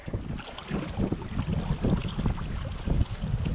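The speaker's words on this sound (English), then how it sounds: "The wind's blowing so hard it's tough to keep the slack out of the line." Strong wind buffets the microphone in a steady low roar with gusty surges while ice fishing on a lake, no talk heard.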